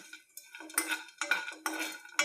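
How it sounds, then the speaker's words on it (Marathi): Dry dates stirred in a pan with a little ghee over a medium flame, heard as bursts of scraping and clattering from the spatula and pan, with no voices. "मी एवढ्याच तुपात भाजून घेत आहे"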